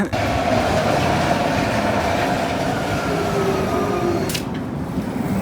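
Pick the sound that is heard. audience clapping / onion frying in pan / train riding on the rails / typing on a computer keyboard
train riding on the rails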